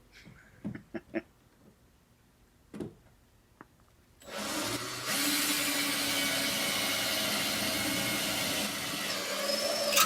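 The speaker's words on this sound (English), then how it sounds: "I'm having trouble with my drill bit again" A few light knocks and clicks, then a power drill with an old, worn bit kicks in and runs loud and steady, straining slightly as it bores, while working on a junkyard Datsun 280ZX.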